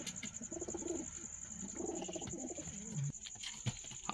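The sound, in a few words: Karnapura pigeon cooing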